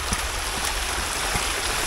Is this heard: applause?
no